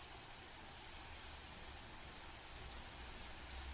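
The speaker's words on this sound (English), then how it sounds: "The sound of rain reverberated in the darkness." Steady rain falls through the darkness at night, a constant, even hiss of drops with no breaks and no voices.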